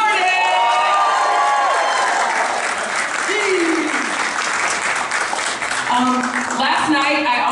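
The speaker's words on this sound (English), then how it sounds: "clap for him when he comes out here" A press conference audience for Black Panther claps and cheers loudly and continuously, with whoops and excited voices rising over the dense applause throughout.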